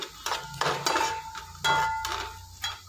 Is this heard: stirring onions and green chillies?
yes